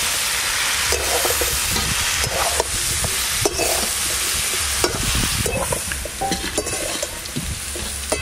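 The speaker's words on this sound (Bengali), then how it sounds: "আলুগুলো লাল লাল করে ভাজা হয়ে গেছে।" Potatoes fry in hot oil until browned for a mutton curry, a loud, continuous crackling sizzle close by, punctuated by repeated stirring scrapes against the pan, with no talking.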